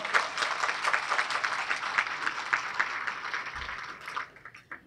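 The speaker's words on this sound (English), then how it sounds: "So one more round of applause for them." Applause from guests at a benefit luncheon, with individual claps audible in a smaller crowd, fading out toward the end.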